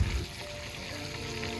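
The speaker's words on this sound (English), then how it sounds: "Listen to that sizzle." Trout wrapped in bacon deep-fries in hot oil, giving a soft, steady sizzle and crackle that is faint and continuous through the short stretch, with no voices.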